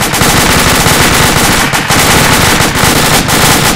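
Sustained machine gun fire in the military shooter Arma 2, a loud, dense, unbroken stream of rapid shots close by that barely pauses for several seconds.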